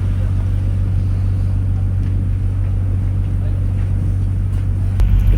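Steady low engine drone and hull hum aboard a passenger ferry on an overnight Coron to Manila crossing, a constant rumble with faint wind, loud and unbroken until a brief shift near the end.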